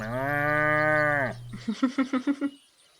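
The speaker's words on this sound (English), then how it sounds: "You hear a cow." A cow gives one long, loud, drawn-out moo, followed by a quick series of six shorter rhythmic grunting calls that fade out, close and with no talk over it.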